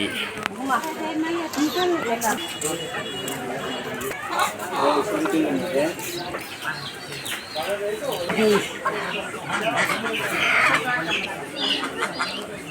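Chickens cluck amid the steady chatter of a crowded village poultry market at Tekerhat in Madaripur district, where ducks and hens are traded wholesale. The birds sound mid-distance and continuous, mixed into the people talking.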